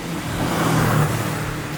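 A 1998 Subaru Impreza WRX Type R V-Limited with a horizontally opposed boxer engine runs steadily close by, a continuous engine drone with a low hum holding throughout, no talk over it.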